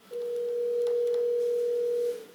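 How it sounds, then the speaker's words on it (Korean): A telephone dialing tone: one steady, clean electronic beep holds for about two seconds against a quiet background, then stops. "전화를 한번 드려보도록 하겠습니다."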